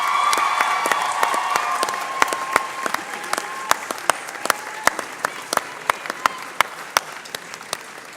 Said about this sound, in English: face the front, and applaud all those that have supported you throughout that university journey